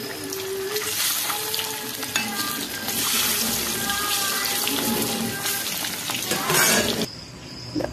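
Spices sautéing in a pan for egg curry, with steady sizzling and stirring scrapes throughout, a brief louder splash near the end as water goes in, then a quieter tail.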